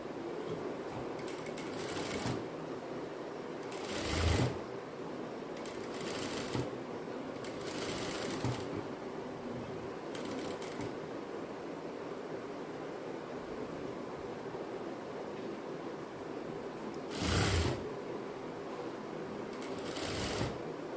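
Domestic sewing machine top-stitching the lining of a child's silk skirt, a steady quiet whirring run broken by short louder bursts of stitching, close and alone without talk.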